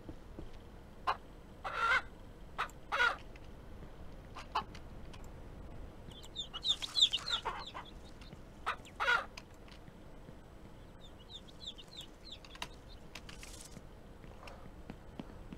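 In the game Ranch Simulator, chickens and a rooster cluck in short, scattered bursts over a quiet background, a few separate calls near and faint, with no talk.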